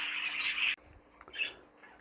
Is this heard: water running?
no